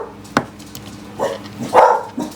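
A dog gives a few short, separate barks at fairly close range, with quiet pauses in between.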